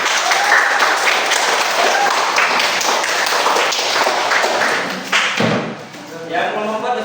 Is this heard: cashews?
no